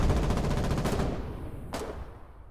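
A defensive turret in the war game Foxhole fires a fast, rattling automatic burst. A single louder shot cracks out after the burst stops, with no talking.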